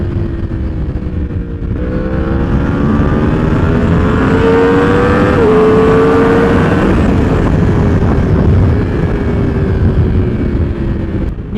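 Yamaha R1 motorcycle fitted with an aftermarket exhaust, revving hard and close with a loud rising howl and growl as the engine climbs and settles through the revs, no voices.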